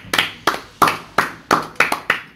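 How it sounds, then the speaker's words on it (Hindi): One person claps slowly while reacting to movie visual effects: seven or eight sharp, close hand claps spaced roughly a third of a second apart in a steady rhythm, with quiet between them. "लो भाई तालियां"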